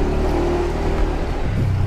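A motorbike engine drones steadily while riding through Bali, a loud close rumble with a slight rise in pitch as it accelerates near the end.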